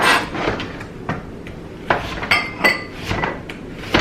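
A kitchen knife chops through zucchini ends on a cutting board, giving several sharp, close knocks with short gaps and a couple of clinks from cookware in between.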